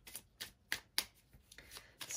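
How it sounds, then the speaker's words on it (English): Tarot cards shuffled by hand during a reading, making a quick series of soft, close riffling bursts at an even rhythm, quiet and alone. "Let's give these cards a good shuffle."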